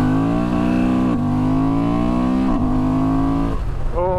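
A 2023 Honda Transalp or Suzuki V-Strom 800 DE adventure motorcycle, a parallel-twin engine, revs loudly up close with a deep, resonant airbox growl, its pitch climbing in repeated pulls and dropping between them.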